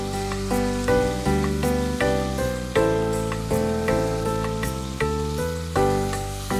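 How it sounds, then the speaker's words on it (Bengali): Onion paste sizzling and spattering in a hot pan while cooking gravy for kacchi biryani, a steady dense crackle with brief pops and a tonal musical bed underneath, no talk. "এই যে এখন কিন্তু একটু কম ছিটছে পেঁয়াজটা"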